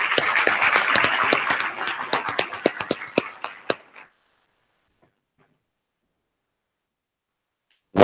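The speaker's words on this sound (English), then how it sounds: "Please assist me with giving a special thanks to the Nash Central High School Navy Junior ROTC" A graduation ceremony audience applauds a high school Navy Junior ROTC unit, dense clapping that thins into scattered individual claps and stops after about four seconds, leaving silence.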